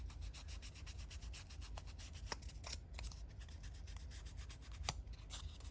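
Scorched Timber ink rubbed onto a paper journaling tag makes a soft, continuous scratchy rubbing with quick back-and-forth strokes, faint and close, with no talking.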